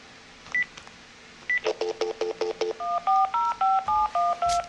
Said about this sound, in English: I am calling someone